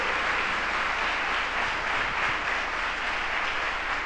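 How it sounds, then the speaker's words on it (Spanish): A church congregation applauding during a Spanish-language worship service, a dense, steady wash of clapping from many hands, even and sustained throughout without speech. "si ese aplauso es para el Señor, démoselo grande"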